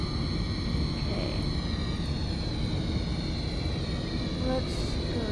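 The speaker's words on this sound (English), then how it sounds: "Let's go right here and park my plane right here." A United airliner taxiing in a flight simulator game gives off a steady, continuous engine roar and whine that stays even and moderately loud from start to finish.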